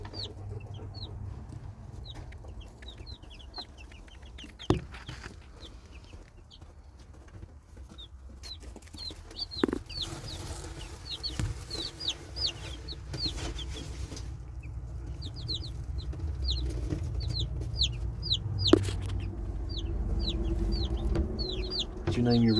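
Young chickens from a hatchery, including a rooster, make repeated high chirps and clucks in quick scattered bursts over a low indoor hum near a heat lamp, with occasional thumps.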